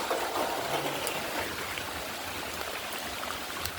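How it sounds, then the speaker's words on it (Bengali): Heavy rain pours down in a dense, steady hiss with occasional sharper drips, loud and close, with no voices. "আপনারা দেখলেন যে কি পরিমাণ বৃষ্টি পড়তেছে"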